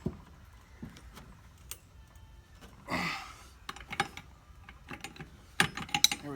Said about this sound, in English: Now we're going to be holding the bolt steady and turning the nut.